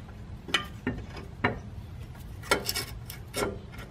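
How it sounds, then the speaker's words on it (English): Ratcheting on 13mm caliper bolts of a 2007 Cadillac Escalade's brakes produces short bursts of metallic clicking and rasping, about six separate strokes at close range with quiet gaps between. "Now I tighten a 13mm caliper bolts"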